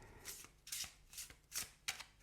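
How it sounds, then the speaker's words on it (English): A tarot card deck being shuffled, giving five crisp riffling bursts in a steady rhythm, close and fairly quiet, with no voices. "And shuffling this deck is really a wonderful thing."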